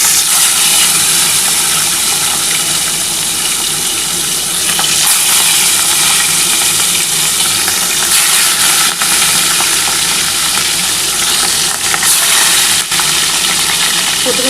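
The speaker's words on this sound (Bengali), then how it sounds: "দেখো এই যে মাছের মধ্যে গোলমরিচ আর নুন দিয়ে কিন্তু কাতলা মাছগুলো ভেজে নিচ্ছি।" Pieces of catla fish seasoned with pepper and salt fry in hot oil, giving a loud, dense, continuous sizzle and crackle that stays steady from start to finish with no talking.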